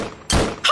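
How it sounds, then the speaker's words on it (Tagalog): A single sharp gunshot thud rings out from outside a house, loud and abrupt after a quiet moment, followed by a brief second burst of noise. "Ay! Patok ng baril yun ah!"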